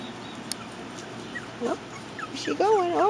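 Young Breely puppies on their first time outside, letting out a few high, wavering whimpers and yips that grow louder toward the end, with soft background noise.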